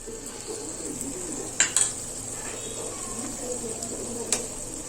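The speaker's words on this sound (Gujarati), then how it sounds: "હવે આપણે એને હલાવી લેશું અને મસાલાને પાકવા દઈશું" Turmeric and red chili powder fry in hot oil in a pan for a Gujarati dish, giving a low, steady sizzle broken by a few sharp scrapes of a spoon stirring against the pan.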